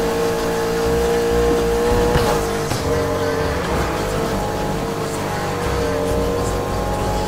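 Porsche race car engines, including a Porsche 718 Cayman GTS, drone loudly and steadily in Need for Speed Heat, with rising revs and brief tire squeals over a constant game engine roar.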